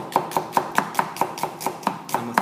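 A knife chops food on a cutting board with about eleven evenly spaced, crisp thuds, steady and close, with no voices.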